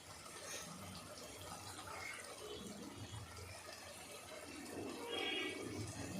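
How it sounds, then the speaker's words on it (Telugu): Water is poured into a simmering pot of mutton curry made with pre-boiled mutton, oil risen to the surface; a soft, steady splashing gush runs for several seconds, growing slightly louder near the end, with no talk. "ఇప్పుడు కొంచెం వాటర్ పోసుకుందాం అండి."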